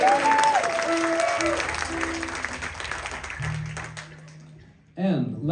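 Audience applause at a spring band program showcase for a guitarist and vocalist, a broad crowd clapping over tonal music and voices, thinning toward the end before a brief loud burst.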